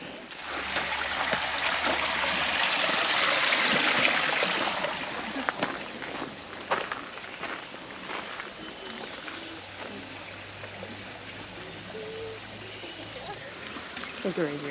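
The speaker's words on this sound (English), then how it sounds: "Crossing back over the creek." A creek runs with a steady broadband wash as someone crosses it on a muddy garden path. The flow is loudest early on and then eases into a fainter, continuous trickle under scattered footsteps and small knocks.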